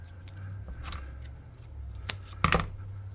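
Scissors snipping material for a model skysail, a few soft close cuts with a pair of sharper snips near the end, quiet and without talk.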